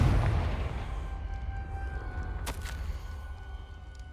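A Confringo spell explosion in the video game Hogwarts Legacy booms with a heavy low rumble at the start that slowly fades, and a sharp crack follows midway.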